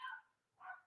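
Two short barks from a dog, fairly faint and a little distant, with a brief gap between them.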